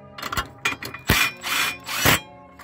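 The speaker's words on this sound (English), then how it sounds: "So we're going to screw that all the way down, drive it in real quick." A power tool drives a screw into the battery bracket of a 2012 GMC Terrain, heard as several short close whirring bursts of varying length with brief pauses between them.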